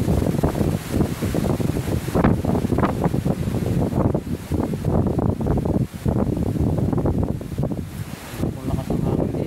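Strong wind by a river with a frequently flooding current roars steadily and loudly across the microphone, buffeting in continuous heavy gusts.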